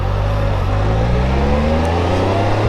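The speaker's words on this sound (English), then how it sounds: "Thanks for coming along on my work ride on the Spyder." A Can-Am Spyder three-wheeled motorcycle cruising on the road, its engine a loud, steady drone with a gradually rising pitch as it accelerates, heard close up over wind rush.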